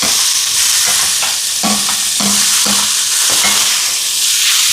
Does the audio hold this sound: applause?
no